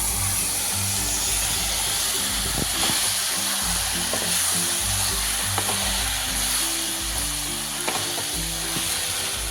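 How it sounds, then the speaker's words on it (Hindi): Spring onions and spices fry in a pan for a Kashmiri-style spring onion and egg dish, stirred with a spoon: a steady, close sizzle runs throughout with occasional scraping knocks, and no one speaks. "चमचा हम चलाते रहेंगे, ताकि मसाले वगैरह अच्छे से मिक्स हो जाए"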